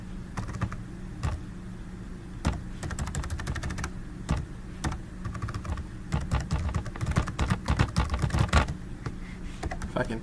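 Fingers type on a computer keyboard close by, a busy run of sharp clicky keystrokes in irregular bursts that speed up and grow denser toward the end, with no voices.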